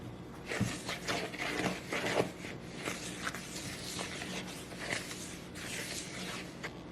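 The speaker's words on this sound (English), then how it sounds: "now let's stir this all together" Shortbread cookie dough being stirred with flour for a lemon bar base, a steady scraping and rubbing that continues alone and close throughout.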